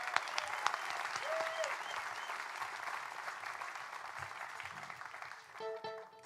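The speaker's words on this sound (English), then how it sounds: "Y'all give Jeremy a round of applause." Sustained crowd applause at a live country music concert, welcoming a fiddle player onto the stage, steady clapping throughout with a few whoops and a brief instrument tone near the end.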